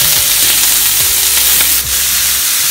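Chopped ginger sizzles loudly in a hot oiled pan with red chillies and curry leaves. The frying crackle is steady and close, and a few scrapes and stirs of a spoon cut through it.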